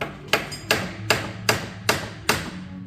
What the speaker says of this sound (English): Might need a bigger hammer for this.